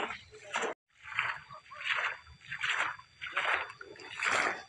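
Water being bailed out of a small village river channel to catch fish, rhythmic repeated splashes and sloshes at a steady pace, near and moderately loud, with people talking over it.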